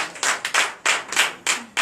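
Church congregation clapping in acclamation during a night deliverance service in Benin, loud, close bursts of rhythmic hand claps in short groups with brief pauses between them.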